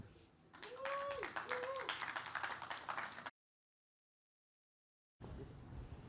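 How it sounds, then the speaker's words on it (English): An ecommerce conference audience claps for speaker Olga, moderate clapping with voices over it, then the sound cuts out abruptly into silence before a short stretch of room noise returns. "Please clap it up for Olga."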